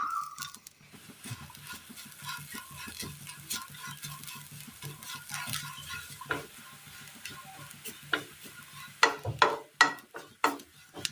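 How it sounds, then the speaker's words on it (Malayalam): Grated coconut roasting in a pan on the stove for a Kerala snack, with soft crackling and sizzling, repeated scraping stirs of a spatula growing louder and more frequent toward the end. "അടുപ്പത്ത് പാൻ വെച്ച് കൊടുത്ത് തേങ്ങ ഇട്ട് കൊടുക്കാം."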